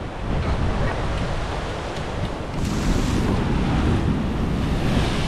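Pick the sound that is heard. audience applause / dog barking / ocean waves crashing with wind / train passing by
ocean waves crashing with wind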